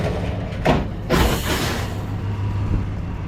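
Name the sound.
truck engine running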